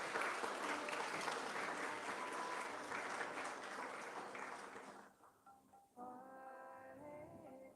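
An audience at a Sikh high achievers award ceremony in a gurdwara hall claps warmly and steadily for about five seconds. The applause fades out, and sustained tonal sounds follow.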